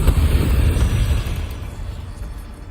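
Incendio fire spell cast in the Hogwarts Legacy video game, a loud low whooshing burst of flame that rumbles and slowly fades over a few seconds, with no talking.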